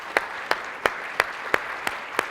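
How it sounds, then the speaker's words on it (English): Audience applause at a conference closing session: a steady wash of clapping with a few sharp, evenly spaced louder claps standing out nearby. "Let's give everyone here a round of applause."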